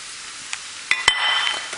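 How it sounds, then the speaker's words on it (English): Steamed broccoli and cauliflower being tossed and stirred with oyster sauce, giving a few soft clinks followed by a wet, sizzling stir that fills the last half second, close and fairly quiet. "I'm just going to mix it up and just toss it really quickly"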